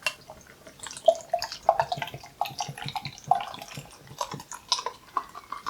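Cloudwater Why Say More beer poured from a can into a glass, splashing and gurgling in short irregular bursts up close, with fizzing as the liquid fills the glass.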